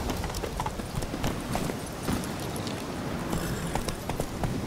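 Roach, Geralt's horse in The Witcher 3 video game, gallops with a rapid, continuous clip-clop of hooves throughout, close and prominent.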